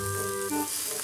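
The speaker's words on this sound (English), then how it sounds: "we're gonna let that sizzle" Steady, hissing sizzle close by, like food frying in a hot pan, with faint tonal hum underneath and no talking.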